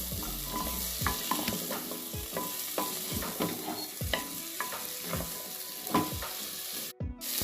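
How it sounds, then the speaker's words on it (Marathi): A spoon stirs vegetables frying in butter in a pressure cooker for pav bhaji: repeated scraping strokes and knocks in an uneven rhythm over a continuous sizzle, close and fairly loud, with no talking. "आता 2 मिनटासाठी आपण हे सगळ्या भाज्या थोडे हलवून घेऊ."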